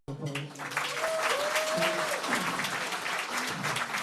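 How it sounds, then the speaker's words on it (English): Audience applause for child singers at a NSW Parliament event honouring the Dalai Lama's 90th birthday, a sustained round of clapping from the room with voices speaking over it. "please give them another round of applause"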